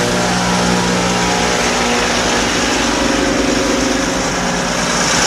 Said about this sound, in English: That blower's working,